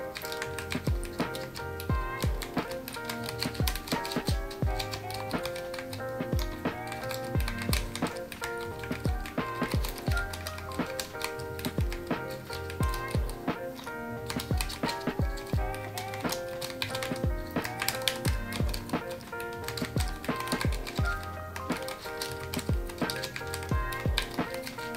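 Continuous clacking of a mechanical keyboard fitted with food-shaped keycaps, fast dense keystrokes at close range with steady rhythm throughout, over a faint background.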